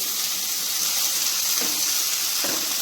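Carrots and capsicum frying in a pan give off a steady, bright sizzle up close, with a couple of faint clinks partway through and no talk.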